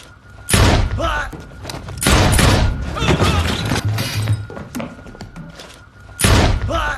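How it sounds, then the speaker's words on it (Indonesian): Film scene of gunfire and fighting, with loud broadband bursts of shots and impacts in several heavy clusters, close and dominant, with some voices mixed in. "Terjadilah baku tembak dan hantam terus."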